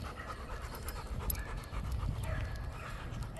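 A working-type dog pants steadily and rhythmically close by, a continuous rapid breathy huffing with no voices over it.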